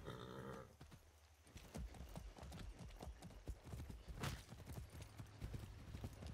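Horse hooves clip-clop steadily in the video game Far Cry 6, a close, brisk rhythmic series of hoof strikes over low game ambience.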